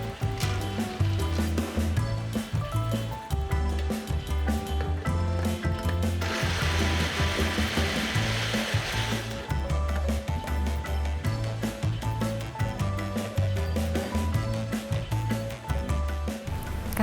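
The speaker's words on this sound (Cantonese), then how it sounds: "250 gram 嘅隔夜飯就要用250 ml 嘅水放入攪拌機" A kitchen blender grinds 250 grams of leftover overnight rice with 250 ml of water, producing a steady, loud whirring grind that runs continuously and swells brighter midway.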